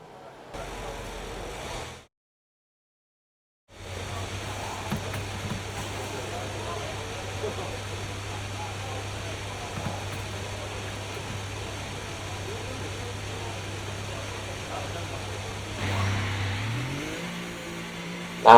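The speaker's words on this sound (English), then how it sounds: "Now we are going out for the first time ever in a Formula 1 car" A Formula 1 car in F1 24 drives out of the garage with a steady, droning engine hum, close and continuous after a brief silence, with a rising shift in pitch near the end.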